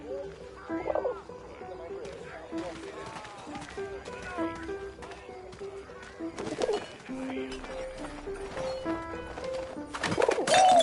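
A pigeon coos in the video game 11-11 Memories Retold, soft repeated calls mixed with other game sounds and a faint voice-like murmur.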